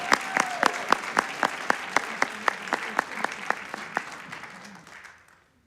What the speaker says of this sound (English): let's give one more big round of applause to Glen Elk High School